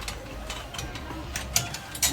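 Screws with washers being turned by hand into the rim of a drum while a drum kit is assembled: faint, irregular metallic ratcheting clicks over a low background hum, with a couple of sharper ticks near the end.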